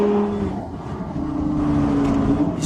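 A Lamborghini Gallardo Superleggera engine burbling and roaring through a downshift, a loud, close, rough growl with shifting pitch that carries on throughout.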